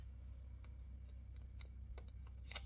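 Scissors snip through a paper flower cut-out for a journal spread, a few faint, close, crisp cuts spaced irregularly over a quiet background.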